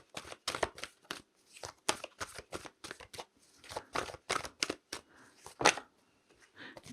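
Tarot cards are shuffled and drawn by hand, a quiet close series of crisp riffling and slapping bursts in an uneven rhythm, with no voice heard.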